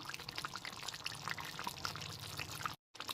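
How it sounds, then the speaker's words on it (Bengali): A teaspoon of ghee is poured into a finished cauliflower curry gravy, making a faint, close, soft liquid pour with small drips, heard alone without talk. "এর মধ্যে দিয়ে দিচ্ছি ওয়ান টিস্পুন ঘি"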